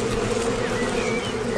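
A dense, continuous buzz of honeybees at the hive entrance, where guard bees confront a drunken worker, loud and close with no voices.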